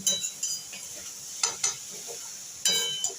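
A spoon scrapes and stirs spices with tomato in a frying pan for a pea curry, sharp intermittent clinks and scrapes over a soft continuous sizzle, close up with no talking.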